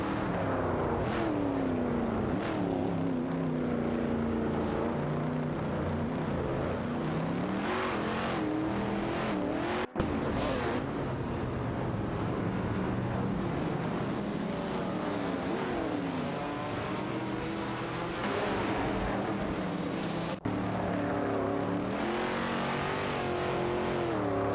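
Racing-game cars, including Porsche 911 RS 2.7s and a Shelby GT350, roar continuously, with engine pitch rising and falling through revs and gear changes as several cars run close together.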